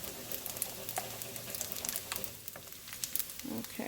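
Eggs fry in a pan for fried rice, a steady soft sizzle with scattered crackles and light spatula taps, close and moderately quiet, with no talking.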